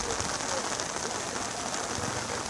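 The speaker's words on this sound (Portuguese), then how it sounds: "Muita água caindo, muita chuva, barreira descendo" Steady, dense hiss of heavy rain pouring onto a blocked highway where a large tree has fallen and a slope is sliding, loud and unbroken throughout.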